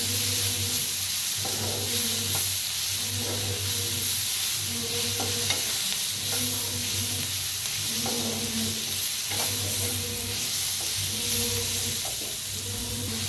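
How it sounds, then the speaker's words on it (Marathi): Egg masala with coriander roasts in a pan, a steady close sizzle broken every second or so by the scrape and clatter of stirring. "त्यापायी थोडंसं भाजूया।"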